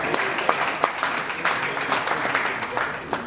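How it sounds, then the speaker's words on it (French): An audience claps and applauds steadily throughout at a launch event, with dense, continuous clapping at moderate loudness. "Applaudissez pour son leader."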